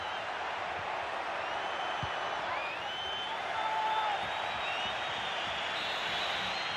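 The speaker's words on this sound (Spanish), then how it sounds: "El pitazo final que arranca una espléndida ovación de los..." A stadium crowd in the FIFA 23 video game breaks into an ovation at the final whistle, a dense, steady roar of cheering and applause that fills the clip at close, loud level.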